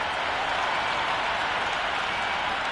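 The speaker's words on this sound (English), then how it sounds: "already the crowd making a hell of a racket" A cricket stadium crowd at an India vs South Africa T20 World Cup match roars and claps in a dense, steady wash of noise before play begins, loud and unbroken throughout.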